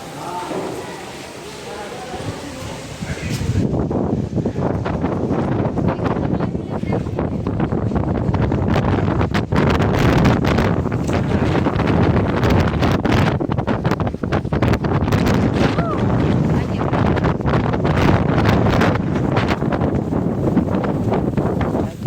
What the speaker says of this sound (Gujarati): બાકી પવન તો બહાર બહુ જ આવે છે